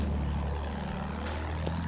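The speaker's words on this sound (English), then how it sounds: "Oh, plane in front." A World War I airplane flying low overhead in Battlefield 1, with a steady droning propeller-engine hum under constant battle ambience and a couple of brief sharp sounds.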